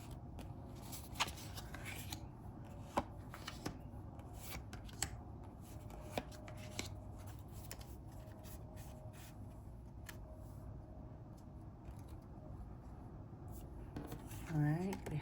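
Tarot cards are handled and shuffled close by in a quiet room, with soft riffling, sliding and sharp taps scattered across the stretch, faint overall, and a voice speaking briefly near the end.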